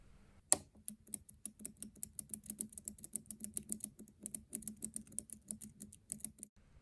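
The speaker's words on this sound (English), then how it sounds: "Set pins will give a distinctive click sound as the pick is quickly flicked across them" Rapid, irregular clicking from a lock pick flicked across the set pins of an Emhart high-security lock, a dense run of small sharp ticks close by, with no talking.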